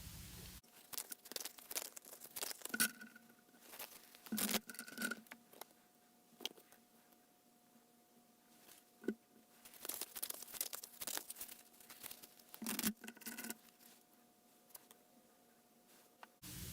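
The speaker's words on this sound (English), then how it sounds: "I'm going to shuffle some career oracles and also some love oracles" Career and love oracle cards being shuffled by hand, a run of crisp papery riffles and soft slaps in irregular bursts, close and fairly quiet, with no talking.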